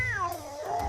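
A peanut seller's cat yowls loudly and close up, one drawn-out wavering caterwaul that slides downward in pitch and then rises again.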